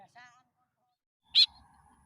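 A tame white-breasted woodswallow (kekep bird) gives one loud, sharp call close by, after a brief faint harmonic chirp, with low background rustle and no talk.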